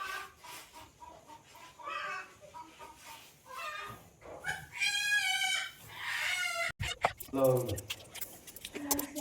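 Chickens cluck close by, with a drawn-out rooster-like call in the middle, mixed with people talking throughout.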